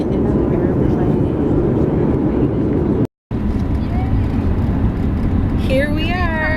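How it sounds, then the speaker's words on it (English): Steady, loud airplane cabin roar during flight, a dense broadband rumble that cuts out briefly near the middle before resuming, with a few faint whistling tones near the end. "just a quick clip of flying in an airplane"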